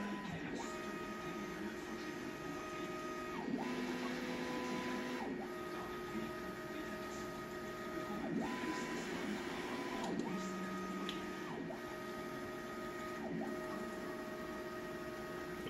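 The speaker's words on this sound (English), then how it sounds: "I'm going to start printing at 200 millimeter a second." V-King CoreXY 3D printer moving at 200 mm/s, its stepper motors whining in rising and falling tones that repeat in quick cycles over a steady hum.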